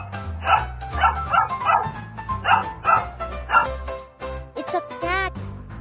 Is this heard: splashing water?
no